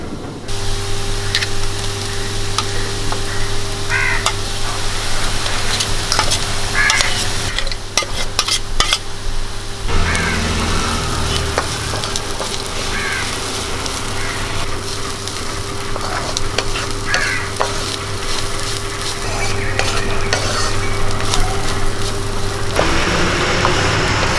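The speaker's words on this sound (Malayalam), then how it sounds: "ഇനി നമുക്ക് നമ്മുടെ അരപ്പ് ഇതിലേക്ക് ചേർത്തൊന്ന് വഴറ്റി കൊടുക്കാം" Ground masala paste sautéed in a pan for kadala thoran gives a loud, steady frying hiss with spatula scrapes and taps throughout, over a constant hum, no voices.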